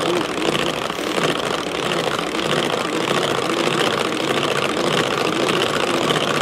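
An electric mixer on speed 2 whipping apricot and red fruit mousse, a loud, steady, continuous whir that holds constant from start to finish with no break.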